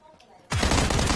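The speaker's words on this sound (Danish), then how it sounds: "Der blev skudt, der blev skudt." Sudden burst of video-game gunfire from a duo match on a cliffs map, loud and dense, cutting in halfway through after quiet game ambience with faint voice chat.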